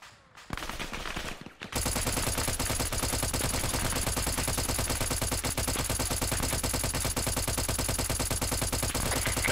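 Sustained automatic gunfire in the military shooter Arma 3, a dense rapid stream of shots from several guns after a brief burst, loud and continuous with no talk.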